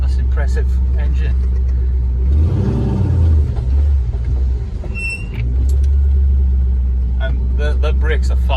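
A Ford Focus with a twin turbo V engine runs while driving, giving a loud, continuous rumbling drone that dips briefly midway and then returns, while people talk over it.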